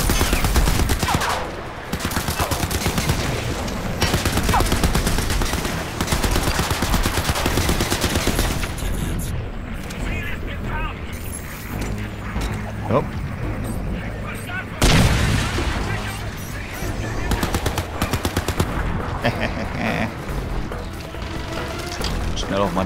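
Crysis 3 gunfire aimed at the player rattles in dense, loud, near-continuous bursts, with booming impacts and a brief lull partway through, all under someone speaking.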